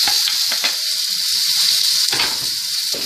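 Cube steak, also called minute steak, frying in a hot pan: a loud, continuous crackling sizzle with sharp spits and pops, no voices.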